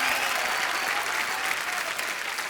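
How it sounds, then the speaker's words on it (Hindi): Strong, sustained clapping from a studio audience at a TV comedy show, a steady even roar of applause lasting the whole moment, with no one speaking. "जोरदार तालियां।"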